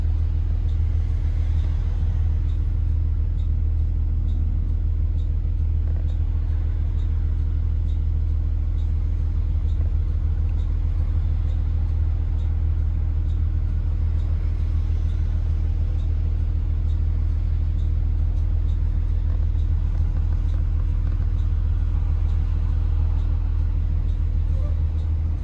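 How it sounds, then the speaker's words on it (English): Road traffic rumbles steadily during a bus ride, a constant low engine and road drone heard from inside the vehicle, with no clear breaks across the whole stretch. "Traffic."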